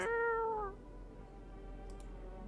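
A single clear cat meow in a video game, close and drawn out for under a second, followed by quiet background with a couple of faint clicks.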